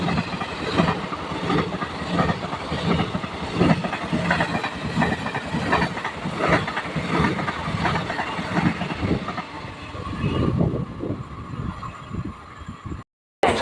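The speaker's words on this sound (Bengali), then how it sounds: "এখন স্টেশন দিয়ে বেরিয়ে যাচ্ছে হাটে বাজারে এক্সপ্রেস এই ট্রেনটি এখন যাচ্ছে শিয়ালদাহর দিকে" Hate Bazare Express passing through a station toward Sealdah, with loud, continuous clickety-clack of wheels on rail joints and a rushing roar that eases near the end before a brief cutoff.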